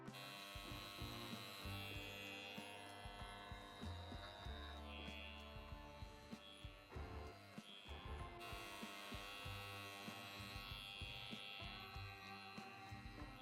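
An electric razor shaves toes, giving a continuous, close buzzing hum with shifting pitch as it presses against the skin, steady over more than ten seconds with small scraping variations.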